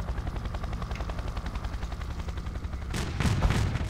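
Helicopter in a military video game, a steady low rotor chop pulsing throughout, with a burst of gunfire and explosive impacts near the end.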